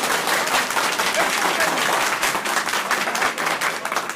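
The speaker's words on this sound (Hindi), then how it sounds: "ये तालियों की गड़गड़ाहट जोगेंद्र सिंह यादव के समर्थकों के जोश को बता रही है।" Supporters at an election rally for candidate Jogendra Singh Yadav applaud, a loud, dense, continuous roar of clapping close by from a large crowd, with voices mixed in.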